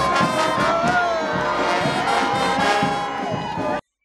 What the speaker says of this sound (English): inciting laughter and applause from the crowd in the city center